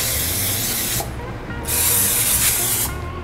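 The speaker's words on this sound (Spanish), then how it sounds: "En este caso estoy utilizando aceite en aerosol" Cooking oil spray from an aerosol can hisses onto arepas de huevo in an air fryer basket, in two close bursts: a one-second spray, a short pause, then a longer, louder one.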